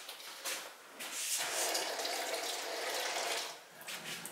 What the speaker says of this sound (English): I think we just need to add a touch more water to the glaze